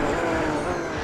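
McLaren F1 supercar in Gran Turismo 4 braking hard, a steady loud engine roar with a faint tire scrub running through the whole short moment, no voices.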